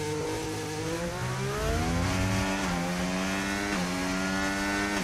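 Formula 1 car on hard tires during Bahrain pre-season testing, its high-pitched engine running continuously and loud, dropping through gears with quick stepped downshifts, then climbing back up, with no talk.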